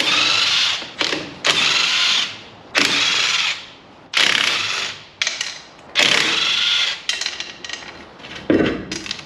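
Wheel nuts spun off a Mercedes Vario campervan wheel with a power tool, loud close bursts of ratcheting mechanical rattling separated by short gaps, repeated several times.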